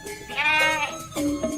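A cartoon goat lets out two loud, close bleats, the first long and wavering, the second shorter, alone with no talk over them.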